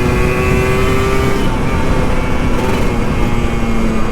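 An old Kawasaki Ninja RR 150 motorcycle engine under way during solo touring, giving a loud, steady drone whose pitch shifts as the throttle changes, with no talking over it.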